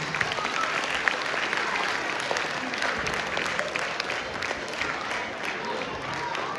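Dense, steady clapping from a large audience at a Tamil school graduation ceremony, loud and continuous throughout with no break.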